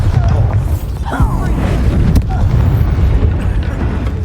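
A Bombarda blasting spell goes off in the Hogwarts Legacy video game, a heavy booming explosion with a rumbling low roar that carries on steadily throughout, loud and close.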